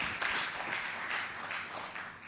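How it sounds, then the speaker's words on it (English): An audience at a startup pitch competition claps in sustained applause, with dense, steady clapping from many hands in a hall that tapers slightly toward the end. "So please keep the applause coming while the founder is getting on the way"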